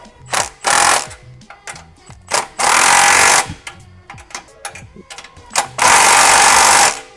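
Several loud, rattling bursts of an impact wrench tighten clamps on an exhaust cutout installed on a car, each lasting under a second. Quieter clinks and handling noises fall between the bursts.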